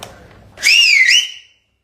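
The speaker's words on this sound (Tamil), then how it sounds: "அந்த மாதிரி விசில் அடிங்கன்னு கேட்கறாங்க" A loud, piercing whistle from a person during a live celebratory chat, rising and warbling for nearly a second before cutting off, with faint talk just before it.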